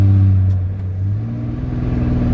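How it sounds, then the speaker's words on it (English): Cummins diesel engine of a Dodge Ram 5500 under heavy load on a steep hill: loud cab drone as it downshifts, the pitch dropping then climbing as revs rise, with a rough rumbling texture. "So now, I'm downshift."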